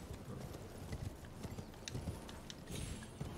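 Horse galloping in the video game Elden Ring, a steady run of quick hoof beats throughout, moderately loud under game ambience.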